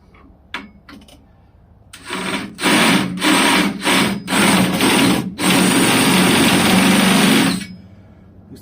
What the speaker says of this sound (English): See if I can drill a hole with it on here.